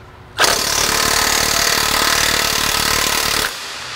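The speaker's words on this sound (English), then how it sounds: "I find that using impact tools to remove rusty fasteners works the best" An impact wrench hammers at a rusty fastener on a 2004 Jeep Wrangler during suspension work, one loud continuous burst of about three seconds that starts and stops abruptly, close up with no talk.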